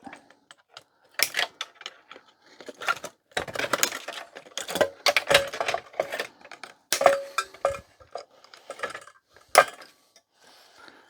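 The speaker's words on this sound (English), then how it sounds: "We'll just cut a bit of wiring so we can see what we're doing" A vintage 1991 HP LaserJet 3P printer has its wiring snipped and its circuit board pulled out, giving close, sharp clicks, snaps and plastic rattles in irregular bursts with short pauses between them.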